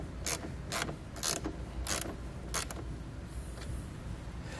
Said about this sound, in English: come back with that 10mm socket and tighten up the nuts that are holding those ring terminals on the breaker